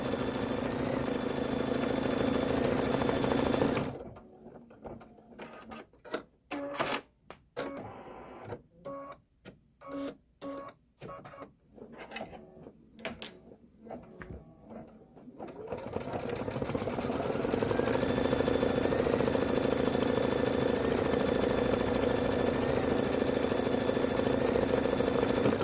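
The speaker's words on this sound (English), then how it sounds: "So it's going to stitch 2 eyelets, and then we're going to do the outline of the roof" An embroidery machine stitches eyelets and a roof outline on a bench pillow, a steady rapid mechanical hum at the start and end with a stretch of quieter, choppier stitching pulses in between.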